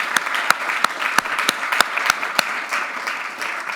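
A small number of people clap at an online art forum event after a guest introduction, with a thin, close patter punctuated by several sharp individual claps over a muted background.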